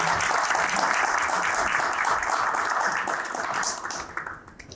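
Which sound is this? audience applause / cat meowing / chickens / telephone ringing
audience applause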